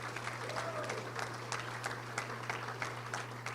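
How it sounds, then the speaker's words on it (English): Steady applause fills the room at a touchdown club luncheon, a dense wash of many hands clapping at moderate distance over a low electrical hum. "Let's give them a round of applause."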